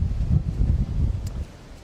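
Wind gusting across an open cricket ground during a Second XI Premier League match in trying, showery conditions, a steady low rumble buffeting the microphone throughout with no talk.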